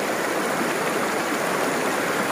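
A shallow, narrow jungle river rushes over rocks with a steady, dense broadband wash, loud and close, with no voices.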